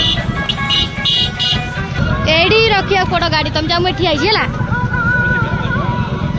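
Congested traffic with cars, auto-rickshaws and motorcycles packed in a long queue, a continuous loud engine din with horn toots rising partway through, while people talk over it.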